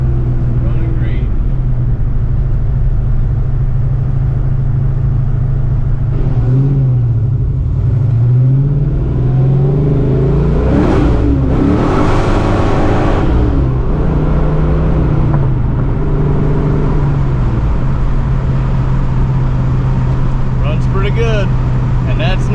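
A 1987 Saleen with a 347 engine revs at part throttle, a loud steady rumbling idle rising and falling through several swells over about twenty seconds, close up, with voices talking over it.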